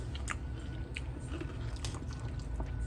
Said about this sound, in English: And the crunch with the chips on top